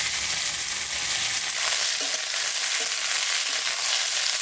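Red chilies frying in hot mustard oil in a wok: a steady, bright crackling sizzle that runs unbroken throughout, moderately loud with no voices.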